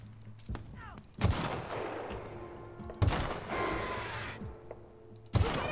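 Gunfire in The Outer Worlds: three loud, sharp shots spaced about two seconds apart, each with a ringing tail, over low game ambience and faint clicks, no speech.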